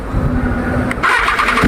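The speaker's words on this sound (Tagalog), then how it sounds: "first sound check natin, BMW S1000 RR. So start natin, cold start muna tayo." A BMW S1000 RR superbike cold-starts: a low rumble is cut by the starter and the engine catches, then settles into a loud, close idle.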